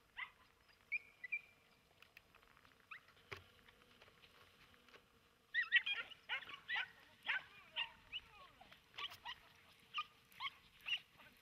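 Andalusian podenco hunting dogs bark in the distance while flushing rabbits from scrub during a hunt, giving a faint scattered yelp first, then a quick run of repeated barks.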